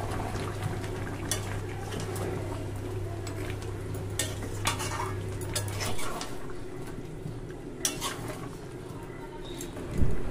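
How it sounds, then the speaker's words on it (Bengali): Fried potatoes are stirred with mutton and a watery spice paste in a pot. A soft sizzle runs under repeated scraping and clinks of a spoon against the metal, close and fairly quiet. "ভাজা আলুটা মাংসের সাথে কষিয়ে নেব"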